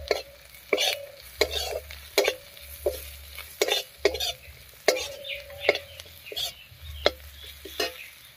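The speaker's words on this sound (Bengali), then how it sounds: "বেসনটা একটু তেলের মধ্যে ভাজা ভাজা করে নেব।" Gram flour fries in oil over browned onions while a spoon stirs it in regular strokes, each scrape sharp and close, over a low bubbling sizzle and with no one talking.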